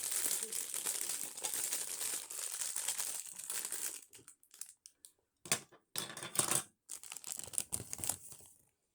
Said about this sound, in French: si vous n'aimez pas le bruit du plastique